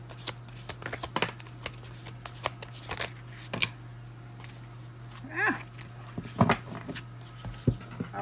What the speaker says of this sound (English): Let's go ahead and get 4 cards for you.